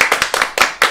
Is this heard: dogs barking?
no